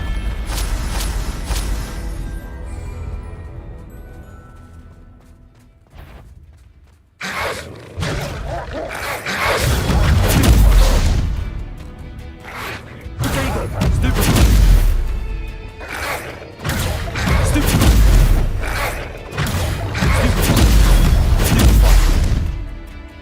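Heavy booming explosions from the Bombarda spell in Hogwarts Legacy, played as Ravenclaw, landing in loud repeated bursts amid crashing combat effects, with voices shouting spells throughout.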